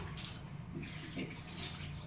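Hot water being poured and mixed with cold in a bathing tub, a steady close splashing and running flow throughout, with faint voices in the background.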